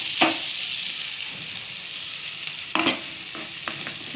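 Potatoes fry in a pan for a spicy okra-and-potato dish with fish roe, giving a steady close sizzle broken by a few sharp scrapes and clinks of stirring.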